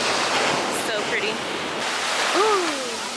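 Ocean surf washing steadily around swimmers in the warm Caribbean sea off St. Maarten, a broad continuous hiss of water with faint bird calls overhead and a voice briefly audible.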